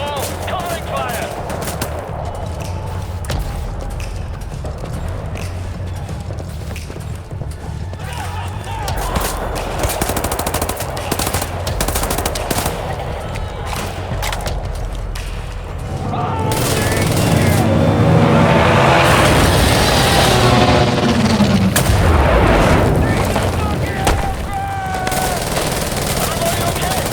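Rapid machine-gun and rifle fire in Wolfenstein: The New Order, loud sustained volleys over a rumbling battle, swelling into a heavier barrage midway, with shouting voices mixed in.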